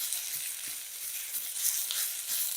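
Very thinly sliced onions sizzle steadily in a pan as they begin to sweat, a close, even crackle of frying with no voices over it.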